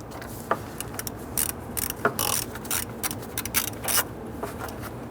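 A ratchet loosening an 8mm radiator bolt on the passenger side of a 1994-2004 Ford Mustang, short bursts of close metallic clicking with brief pauses between turns, no speech.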